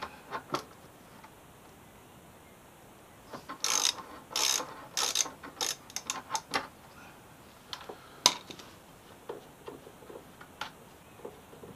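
Ratchet clicking in short bursts while brake caliper bolts are undone on a Triumph Street Triple R motorcycle, with dense rapid ticking clusters between quieter gaps, close up and with no talk.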